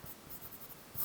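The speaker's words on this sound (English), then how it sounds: "if I erase those pencil lines that I had put in there." An eraser rubs out pencil lines on paper during a poppy drawing, giving about a second of faint, soft, scratchy rubbing strokes heard alone.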